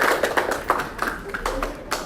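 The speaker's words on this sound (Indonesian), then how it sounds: "tepuk tangan dulu untuk kelompoknya Prianta." Applause from a classroom audience for a student group about to present, a scattered burst of hand claps lasting about two seconds at moderate level.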